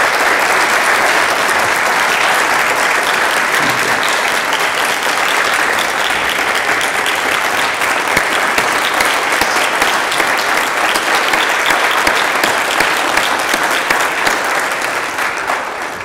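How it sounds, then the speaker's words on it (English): Long, loud round of applause from an audience honoring students and staff at a Lakeland Foundation donor event, dense steady clapping that tapers slightly at the end. "could I ask for one more round of applause for our wonderful students and staff here today?"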